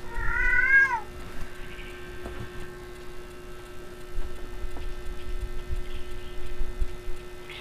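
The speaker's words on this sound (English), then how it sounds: "My cat making a lot of noise" One clear, wavering cat meow at the start, then a fainter mew, followed by quiet background hum and light rustling.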